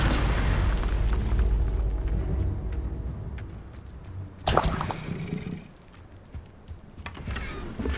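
A fire spell cast in the video game Hogwarts Legacy: a sudden loud whooshing burst of flame in the middle of an ongoing rumbling battle ambience, followed by a fading crackle.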